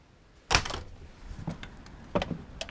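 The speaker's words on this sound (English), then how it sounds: "We do love the sound of the door when it closes." Door of a 2017 Airstream Flying Cloud 25FB travel trailer shutting with one solid, loud thud, followed by several fainter latch clicks and knocks from the heavy-duty hardware, with no talking.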